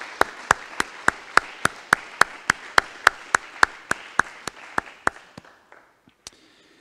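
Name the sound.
applause at municipal council meeting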